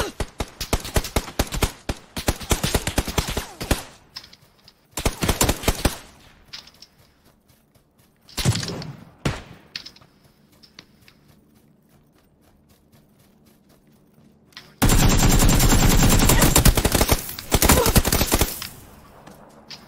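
Gunfire aimed at an enemy in PUBG, with rapid bursts of shots early on, scattered single cracks in the middle, and a long loud sustained volley near the end, separated by quieter gaps.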